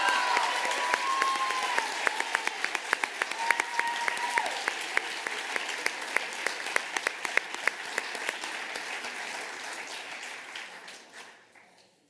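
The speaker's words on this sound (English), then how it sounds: "Let's give her a round of applause." Sustained audience applause at a high school awards ceremony, with dense clapping holding steady for about ten seconds before tapering off near the end, with no talking over it.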